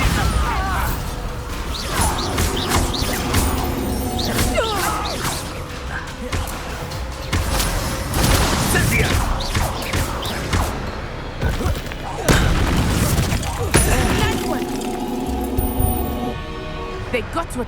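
Spell blasts and crashing impacts from combat in the video game Hogwarts Legacy, a busy run of thuds, smashes and bursts over game music, with voices shouting spell names between them.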